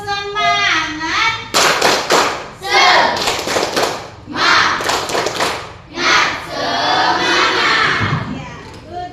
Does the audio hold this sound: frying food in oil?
no